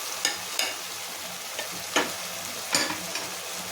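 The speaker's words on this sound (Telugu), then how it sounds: "ఇవన్నీ కూడా ఒకసారి కలిపేసుకుందాము" Beans, drumstick pieces and green chillies being stirred in hot oil in a pan, with a steady soft sizzle under a few sharp scraping stirs of a spoon, close and alone.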